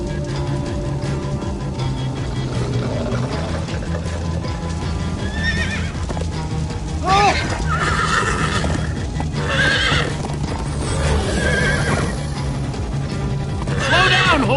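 Horse in the Minecraft Story Mode video game galloping with rapid clip-clop hoofbeats under a game soundtrack, giving several loud whinnies and neighs in the second half.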